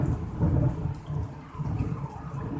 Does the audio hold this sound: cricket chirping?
no